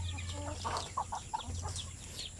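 Native RTL Basilan chickens cluck softly at close range, a few short clucks bunched near the middle over a low steady background hum, with no talking.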